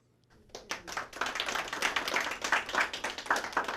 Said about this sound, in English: Round of applause inside the Sands Hotel this morning in Rehoboth Beach.